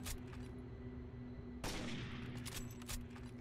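Gunfire in the shooter game Rainbow Six Vegas 2, on a Nevada desert level: a quiet stretch broken by a sudden burst of rapid shots, then a few more scattered shots trailing off.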